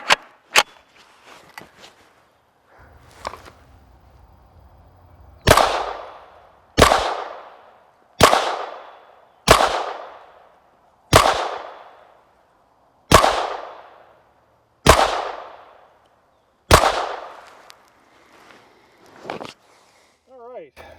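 Gunshots from a Ruger LC Carbine in 5.7x28mm fired outdoors at about 25 yards, eight sharp loud reports at a steady rhythm of roughly one every one and a half seconds, each with a short decaying tail, plus a couple of earlier shots.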